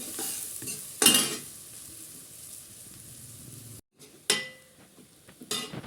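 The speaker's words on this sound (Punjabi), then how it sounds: "ਇੱਧਰ ਭੁੱਜ ਗਏ ਸਾਡੇ ਮਸਾਲਾ ਪਿਆਜ਼ ਭੁੱਜ ਗਏ" Onions and spices sizzling in oil in a home kitchen pan while saag is being made, a steady soft fry under occasional stirring and utensil scrapes, with a louder stir burst near the start and more later.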